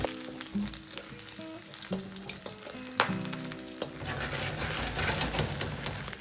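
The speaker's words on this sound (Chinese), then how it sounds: "把肉表面煎至微黄，接着下入适量的姜片" Pork pieces fry in a pan with ginger slices added, a continuous close sizzle with clinks and stirring knocks that grows denser and hissier toward the end.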